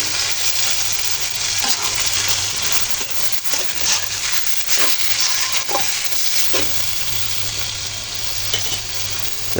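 Chopped tomatoes and peas sizzle steadily in a hot pan of oil-released spices for a boal fish bhuna curry, a loud continuous frying hiss broken by a few scraping stirs, with no talking.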